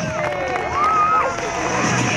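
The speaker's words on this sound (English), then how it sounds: "Massive cheer, please, for the Gurkhas." Crowd cheering and shouting at an Army open day demonstration at Deepcut, a burst of mixed voices and whistles rising and fading over a couple of seconds.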